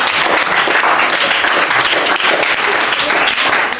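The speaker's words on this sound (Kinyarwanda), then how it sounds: "Okay, amashyi menshi." Enthusiastic, sustained applause rises from a group gathered for a pupil's birthday at UMUCYO School, a loud close wall of clapping hands that holds steady for several seconds.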